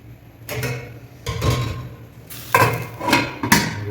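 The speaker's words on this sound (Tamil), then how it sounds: "மூடியை போட்டுறேன்" A metal lid is set onto a pot of chicken dum biryani, with several clanking and scraping knocks over a few seconds, close and moderately loud, with no voices.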